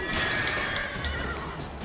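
A horse in the video game The Witcher 3: Wild Hunt whinnies loudly and close. Muffled thumps and background noise sound beneath the neigh, with no talking.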